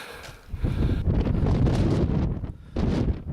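Strong wind buffets the microphone near a hill summit, a loud broadband roar that gusts in waves, easing briefly before surging again.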